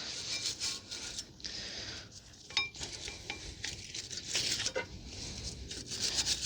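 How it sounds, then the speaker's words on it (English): Wire brush scrubbing rust off the front brake parts of a 2019 Honda Civic 2.0, a steady run of gritty, scratchy strokes with metallic clinks, close up and without talk. "You can use a wire brush,"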